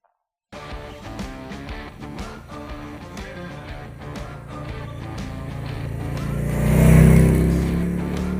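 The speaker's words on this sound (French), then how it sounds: "la nouvelle Harley Davidson Street Glide spéciale qui étrenne le non moins nouveau Big Twin de la marque américaine, le Milwaukee 8 107" A Harley-Davidson Street Glide Special with the Milwaukee-Eight 107 Big Twin engine runs with a steady low V-twin rumble that swells into a louder revving pass near the end, with no talking.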